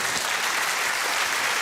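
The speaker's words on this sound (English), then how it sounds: "That's the most uncertain round of applause" Studio audience of the British panel show QI applauding, a short, dense, even burst of clapping filling the room, loud and continuous with no voices over it.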